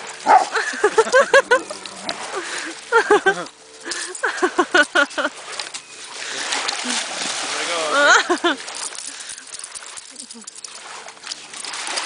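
A dog barks repeatedly while chasing waves on a shore, sharp yips and barks in bursts over the wash and splash of water, with people talking and shouting nearby.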